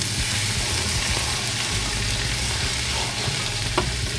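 Beans with cumin and other spices are stirred in a hot pan for a Tex-Mex bean dip, giving a continuous close frying hiss with a low rumble beneath and one brief knock near the end.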